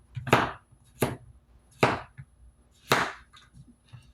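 A handmade custom mini cleaver chops through zucchini in four crisp, separate strikes, close and clean, spaced about a second apart with quiet between them.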